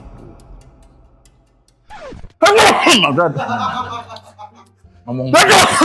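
Sharp, explosive sneezes burst out twice amid excited talking and laughter in a lively, close-miked room.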